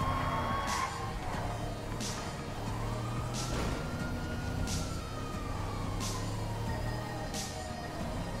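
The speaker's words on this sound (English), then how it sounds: "And that got sirens on him." Police sirens in the video game GTA 5 wail continuously with rising and falling tones, accompanied by regular bursts of noise and a steady engine rumble underneath.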